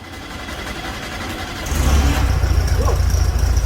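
A 1974 VW Super Beetle engine catches and starts, jumping from a low cranking rumble to a loud, steady running roar close by, then settling into a rough idle.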